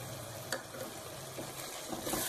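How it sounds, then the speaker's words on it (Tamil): A tomato, chili powder and coriander powder masala for chicken gravy is stirred in a pan, giving a faint, soft sizzle broken by a few light scraping clicks, with no talk. "இதெல்லாம் நல்லா ஒரு பிரட்டு பிரட்டிடலாம்."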